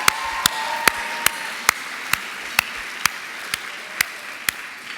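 Audience at a school media awards ceremony clapping in a slow, regular rhythm, about a dozen distinct sharp claps over a soft background murmur.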